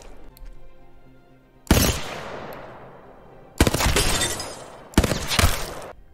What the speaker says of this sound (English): the Nemesis doing its 4-round burst or something like that